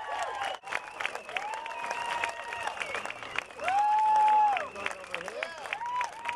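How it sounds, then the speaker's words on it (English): An outdoor crowd applauds at a Hollywood Walk of Fame star ceremony for a band, with steady clapping and a loud tonal swell midway, while a person talks over it. "I think that deserves more applause than that."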